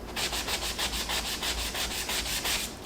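A painted wooden clipboard frame is sanded by hand to distress it, giving a rapid, even back-and-forth rasping scrub that repeats about five times a second, close and fairly quiet, with no talking.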